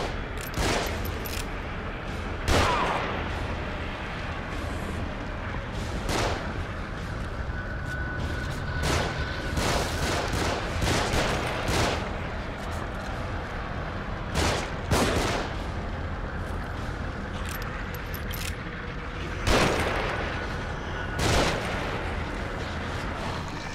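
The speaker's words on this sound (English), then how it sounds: "They're shooting from above." Bursts of gunfire from enemies in The Evil Within ring out over a steady game backdrop, with several louder volleys and single sharp shots scattered across the stretch, close and loud.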